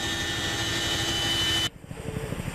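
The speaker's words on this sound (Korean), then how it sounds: "시끄러운 엔진음이 600m 상공에 머물자" Loud, steady aircraft engine drone from an airplane carrying special forces paratroopers at 600 m altitude during a high-altitude jump training drill, with no talk; it cuts off abruptly near the end, leaving fainter rumbling wind noise.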